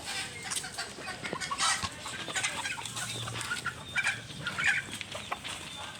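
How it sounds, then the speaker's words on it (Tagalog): Small chicks chirp in quick, high, scattered peeps close by, mixed with soft clucking from nearby fowl and light background noise. "Ito po yung chichiw."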